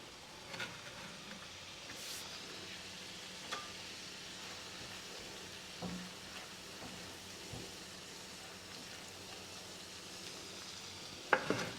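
Crab stuffing cooks down in a pan with a quiet, steady sizzle, and a few soft stirring scrapes and clinks come and go, ending with a louder clatter.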